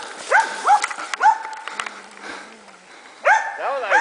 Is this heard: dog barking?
yes